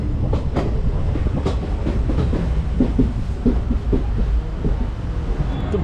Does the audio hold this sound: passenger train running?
yes